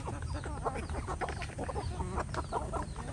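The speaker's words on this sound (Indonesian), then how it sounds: "Jagonya saya punya 9 ini sedulur, untuk jago yang sudah besar-besar seperti ini." A flock of free-range village chickens, including about nine grown roosters and some thirty hens, clucks and chatters in dense, overlapping calls, close and lively, with a constant low hum beneath.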